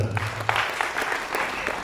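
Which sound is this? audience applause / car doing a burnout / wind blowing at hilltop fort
audience applause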